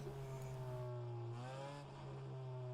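Race car engine in the rFactor 2 racing game, a steady loud drone with a rising and falling pitch as revs change, continuous throughout with no voices.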